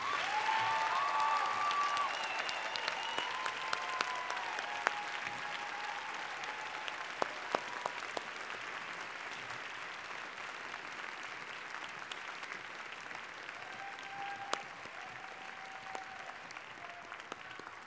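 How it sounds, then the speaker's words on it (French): Steady, sustained applause from a large graduation ceremony crowd honoring new graduates, fairly distant and even for nearly eighteen seconds, with a few isolated louder claps and faint tonal sounds. "Applaudissons-les chaleureusement."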